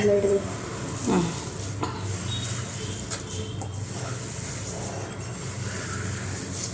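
Oil heats in a pan with a steady, close hiss and faint crackle, a soft scrape or clink now and then, and quiet talk over it.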